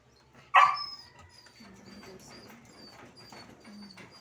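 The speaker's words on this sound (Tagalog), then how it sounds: "Pero mabait na aso to guys si Naya." A single sharp dog bark rings out near the start, followed by soft bird cooing and low background sounds.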